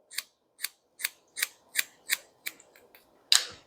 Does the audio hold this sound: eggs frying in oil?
no